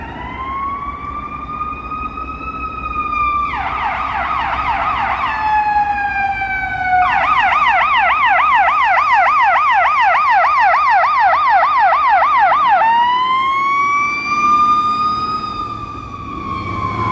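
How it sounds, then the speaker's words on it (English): A loud fire truck siren on a city street in Toronto on a November evening, sweeping through a slow wail, then shifting into a fast yelp for several seconds before returning to the wail. There is steady traffic rumble underneath. "Fire truck is heading south down Church Street."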